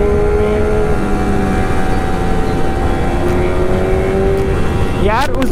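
A Kawasaki Ninja Z900 motorcycle engine roars loud and close during an evening ride, a steady droning rumble with shifting tones before a rising rev near the end, and voices talking over it.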